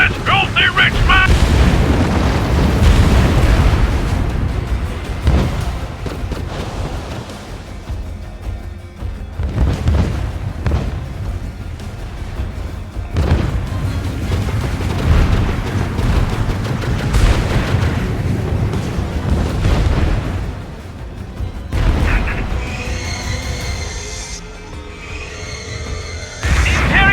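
Naval battle in The Falconeer: heavy cannon fire and booming explosions rolling almost continuously, loud and close, with shouted voices and music mixed in throughout.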